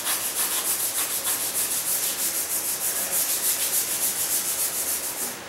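A small brush scrubs black tar mastic off a floor in quick, even back-and-forth strokes, a close, continuous hissing rub pulsing about twice a second, with no voices.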